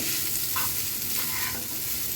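Food sizzles loudly in a hot pan while being stirred, giving a dense, continuous crackle with scraping movements and no voices.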